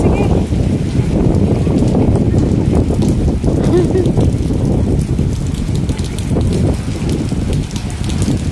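Strong typhoon wind roars and buffets nonstop, with gusts battering the microphone and a wet, rain-like rush underneath.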